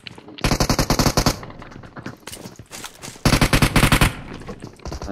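Bursts of automatic gunfire from a competitive online shooter match, rapid rhythmic rattling in two loud clusters with scattered shots between, close and dominant, no talking.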